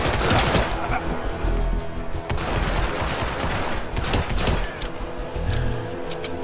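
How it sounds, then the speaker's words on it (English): Sustained gunfire in Hitman: Absolution: loud, dense bursts of shots crackle almost without pause, close and overlapping, with no voice above them. "I think we're just gonna have to gun through it all."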